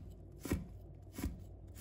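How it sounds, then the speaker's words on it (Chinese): A knife slices bird's eye chili peppers into rings on a board, making two soft, evenly spaced chopping thuds that sound faint and close. "把小米椒切成小圈"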